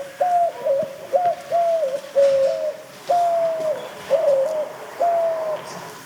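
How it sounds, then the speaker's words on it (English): Mourning dove cooing in a recorded example, a series of soft, low mournful coos repeated steadily at moderate distance against faint outdoor background hiss, no voices. "Here is the mourning dove."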